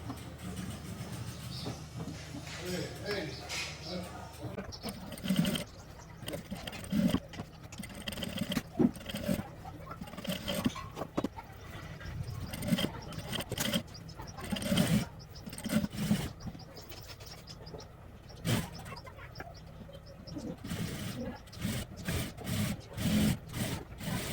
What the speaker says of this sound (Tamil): ஸோ நான் இன்னொரு வாட்டி ஸ்டிச் பண்ண போகிறேன்.